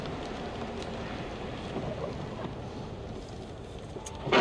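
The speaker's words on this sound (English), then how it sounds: "as I said, we've got rain." Steady rain falling outdoors in southern British Columbia at about 4 degrees, a constant broadband hiss with a few faint drips, moderately loud and unbroken.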